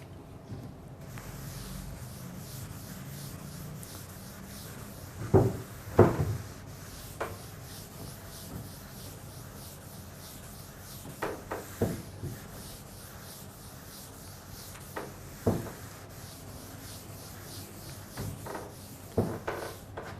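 Rubbing and erasing on a classroom board, a soft continuous scrubbing with a few sharper knocks and scrapes scattered throughout, fairly quiet and without talk.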